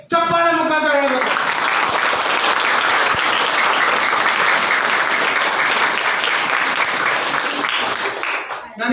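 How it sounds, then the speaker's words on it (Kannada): A high school audience at an Independence Day notebook distribution bursts into applause, loud and sustained for several seconds after a voice briefly speaks at the start, then fading near the end. "ಚಪ್ಪಾಳೆ ಮುಖಾಂತರ ಹೇಳ್ಬೇಕು"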